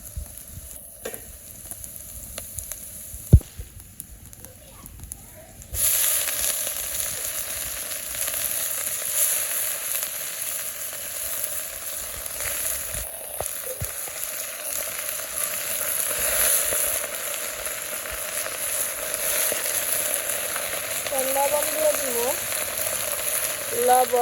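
Leafy greens are added to a pan of fried onions and break into a loud, steady sizzle that jumps up suddenly and keeps hissing, with faint stirring and no talk.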